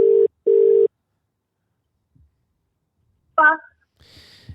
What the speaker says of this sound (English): This is the part where the phone rings.